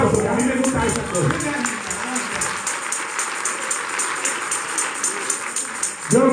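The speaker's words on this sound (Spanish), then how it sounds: "Este es un aplauso, que a mí me gusta esa cosa." Church congregation applause during a sermon, a steady wash of clapping that holds at even loudness throughout, with the preacher's voice heard at the start and at the end.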